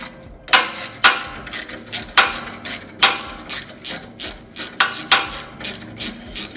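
A ratchet fitted with a 12mm socket clicks as it undoes the nut on a chipper/shredder blade bolt, about a dozen crisp, close ratcheting bursts in a steady rhythm with no talking.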